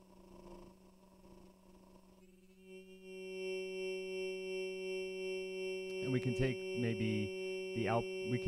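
A modular synthesizer sine wave with a wave multiplier feedback patch holds a steady, pure tone with stacked harmonics after an earlier buzzy section, and a person talks over it toward the end.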